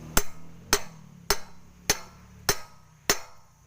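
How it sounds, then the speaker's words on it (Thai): A hammer taps a gear onto a motorcycle gearbox shaft: six sharp metallic blows, close and evenly spaced about half a second apart, each with a short ringing tail. "เราก็ตอกนะครับ โดยใช้ค้อนตอกไปเลย"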